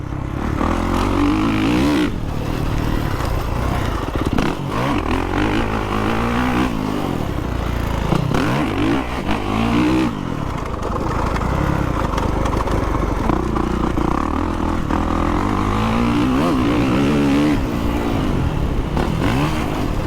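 Motocross bike from the game MASTERCLASS Motocross 3 racing over jumps, its engine loud and steady throughout, pitch dipping and surging as it lands and rides off throttle, with some clattering mixed in.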